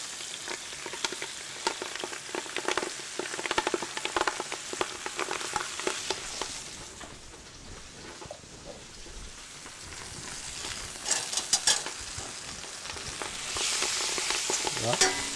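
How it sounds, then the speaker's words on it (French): Spinach shoots sautéing gently in garlic butter in a pan, a steady sizzle and frying crackle with intermittent stirring scrapes and clinks, fairly close and continuous, with no one talking. "Maintenant on va très légèrement sauter les pousses d'épinards."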